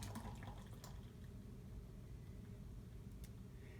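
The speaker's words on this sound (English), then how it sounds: "I'm going to pour it back into my measuring cup" Homemade liquid laundry soap concentrate poured from a container into a measuring cup, giving a faint, continuous liquid trickle and glug with a low background hum and a few soft knocks.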